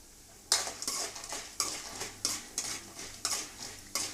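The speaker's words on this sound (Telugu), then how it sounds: "ఇదండి పప్పులు చూడు దోరగా వేగుతున్నాయి కదా" Lentils fry and are stirred in a pan while cooking stuffed brinjal curry, with a steady sizzle and a series of scraping strokes roughly every half second, close up and with no voices.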